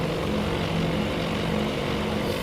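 Propeller warplane in the naval strategy game Task Force Admiral, a steady droning engine hum with a sustained low buzz and even tone, loud and alone with no voices over it.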